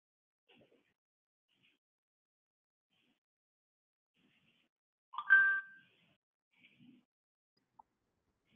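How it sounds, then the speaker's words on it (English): A short chime-like notification tone pops up once during an online school webinar, clear against near silence, with a few faint ticks scattered before and after. "I got next notification from Jesse"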